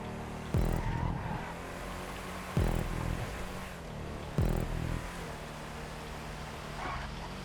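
An LSCM Strider wide-body sports car racing on a short track in GTA 5, with three sharp tire-squealing skids and engine roar swelling and fading, moderately loud at a steady pace.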